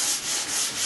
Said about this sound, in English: I'm just sanding it to the line there.